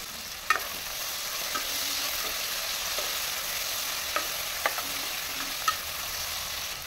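Tomatoes and onions softening in a covered pan give a steady, soft sizzle, with a few faint clinks and taps scattered through it and no voices.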